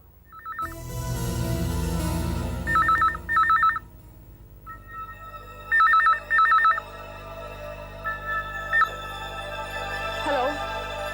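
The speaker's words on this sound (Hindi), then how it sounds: "फोन की घंटी बज रही है" An old-style telephone bell rings in repeated short double bursts, loud and close, over a sustained low musical drone in a horror drama scene.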